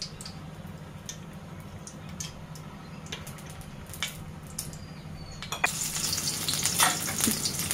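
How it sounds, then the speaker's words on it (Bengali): Oil heats in a frying pan for a thin drumstick curry, giving a quiet crackle with scattered ticks that swells into a louder, fuller sizzle toward the end. "প্যানে তেল দিয়ে দিলাম"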